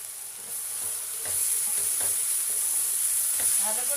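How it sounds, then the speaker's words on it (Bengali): A paste of ground ginger, black mustard and poppy seed with cumin and coriander powder is stirred into mixed winter vegetables in a hot pan: a steady bright sizzle with several soft scraping strokes. "ভালো করে আমি সবজির সাথে মিশিয়ে নেব।"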